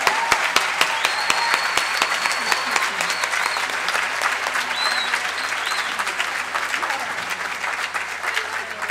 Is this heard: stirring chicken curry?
no